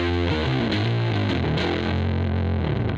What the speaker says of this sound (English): we need a little bit of chorus for the detune vibe. And now an octave pedal set it with a low octave.